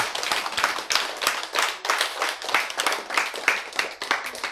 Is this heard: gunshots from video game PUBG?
no